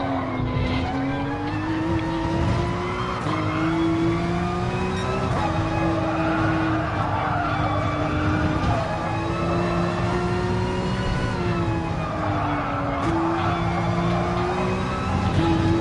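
Race car lapping Laguna Seca in Gran Turismo Sport, a loud steady high-revving engine whine that rises and drops with gear shifts, continuous and close throughout.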